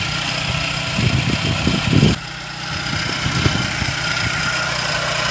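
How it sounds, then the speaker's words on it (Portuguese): A VW Gol G3 Rallye engine runs at a steady idle, close and continuous, with a slightly heavier rumble for the first couple of seconds before settling into an even hum. "Mas olha o funcionamento desse motor."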